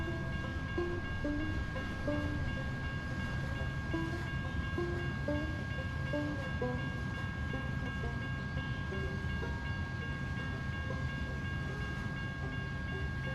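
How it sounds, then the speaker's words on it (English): A freight train passes in an Australian Outback truck driving game, a steady loud rumble of rolling wagons with clicking wheels and sustained horn-like tones throughout, with no talk over it. "There's a train coming."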